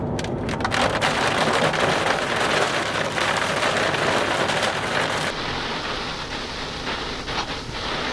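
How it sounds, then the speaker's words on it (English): Heavy rain from a severe thunderstorm drums on a vehicle driving through Tornado Alley while towing a trailer, a loud continuous wash of water and road roar that eases a little toward the end. "Right now, we're driving through some severe thunderstorms."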